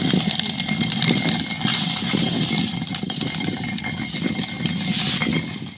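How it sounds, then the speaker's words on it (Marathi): A grain mill grinds chickpea dal in a village, giving a continuous loud mechanical drone with a rough, pulsing motor rumble and hiss that runs steadily from start to finish. "भरडकीवरती भरडून हरभऱ्याची डाळ तयार करणं काम चालू आहे."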